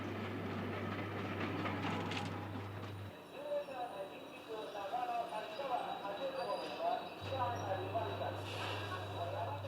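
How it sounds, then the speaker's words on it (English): The Tokaido Express high-speed train runs on rails at Tokyo Central Station in 1970, a steady rumbling rush with rail noise and a low hum that drops out midway, while a narrator talks over it. "The world's fastest train, the Tokaido Express."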